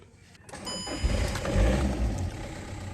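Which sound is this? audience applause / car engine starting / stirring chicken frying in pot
car engine starting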